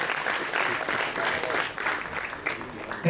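Audience applause at a student prize ceremony: a dense, even burst of clapping from a crowd that fills the short moment and stays steady throughout.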